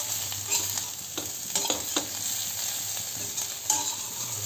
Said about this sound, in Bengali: আঁচটাকে একদম লো টু মিডিয়াম ফ্লেমে রেখে এরকম নাড়াচাড়া করতে করতে দেখুন এরকম আস্তে আস্তে লালচে হয়ে আসবে